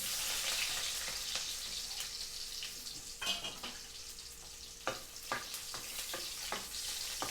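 Onion and garlic sautéing in oil in a pan at the start of cooking beef-skin kare-kare, a soft continuous sizzle broken by a few sharp scrapes and knocks of stirring.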